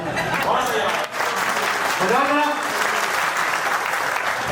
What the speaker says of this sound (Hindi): जोरदार ताली देखो भाई